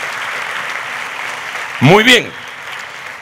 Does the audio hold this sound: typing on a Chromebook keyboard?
no